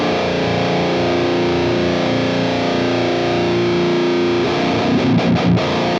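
Heavily distorted electric guitar through a Fractal FM3 modeler with a 2000s metalcore tone: a thick, saturated sustained chord ringing loud and continuous, followed near the end by a few chugging palm-muted hits.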